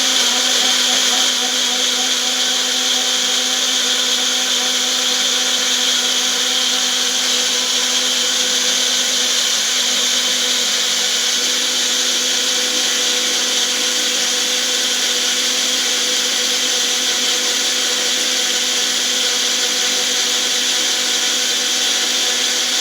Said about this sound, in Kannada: ಈ ಥರ ನಾವು ಜಾರ್ ಇಟ್ಕೊಂಡು ಇದನ್ನು ಮಿಕ್ಸಿನ ಆನ್ ಮಾಡ್ಕೋಬೇಕಾಗುತ್ತೆ